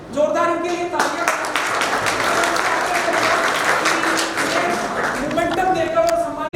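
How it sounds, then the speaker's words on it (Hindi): At a tenth-anniversary celebration and award ceremony, an audience claps loudly for an honoree, a thick sustained wave of hands with voices and occasional tonal sounds threaded through, tapering off at the end. "जोरदार इनके लिए तालियां"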